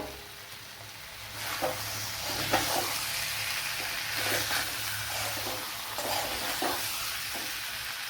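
Cauliflower coated in gram flour fries in a pan with a steady sizzle, stirred at intervals with scraping spoon strokes, close by and without talk.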